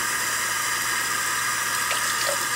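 Running tap water splashes steadily while a paintbrush is rinsed clean of soap in a sink. The flow is close and continuous, with a few small splashes and no talking.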